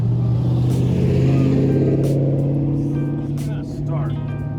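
A misfiring car engine on cheap coilovers runs with a steady low rumble, loud and close, with people talking over it.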